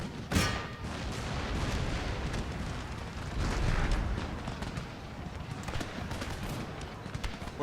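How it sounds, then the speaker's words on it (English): Cannon and artillery fire from the Empire: Total War battle game, with a sharp early blast and a continuous rumbling, crackling barrage of booms that swells and fades over several seconds. "We're firing everything we have on those cannons"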